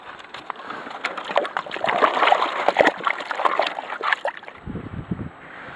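A gold pan is worked in a water-filled 5-gallon bucket, making close, continuous splashing and sloshing that trails off into a few softer gurgles.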